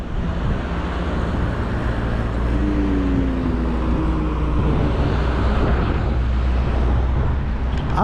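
A steady roar of passing cars fills the roadside, loud and continuous, with wind rumble and a faint engine drone rising and falling.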